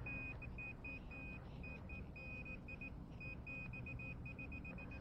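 A Nokta Makro metal detector sounds a steady, repeating high beep in short pulses over a dense low rumble of background noise, probing an 1880s property.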